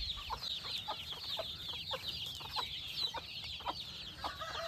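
A flock of chickens kept on a house rooftop clucks and chatters in quick, repeated bursts, close by and moderately quiet over a soft background hush.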